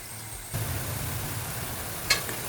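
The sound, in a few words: cauliflower frying in oil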